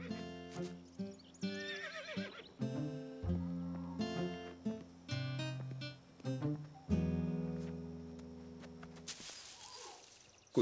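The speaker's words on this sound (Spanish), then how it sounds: "El sonido del caballo asustó a Caillou" A horse neighs in several loud, shrill whinnies, with hoof clip-clops and snorting between them.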